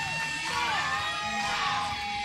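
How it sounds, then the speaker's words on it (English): Arena crowd at a live professional wrestling show cheering for a wrestler, a dense continuous roar of yells and whoops with shrill rising shouts, sustained and fairly loud throughout. "And listen to that crowd."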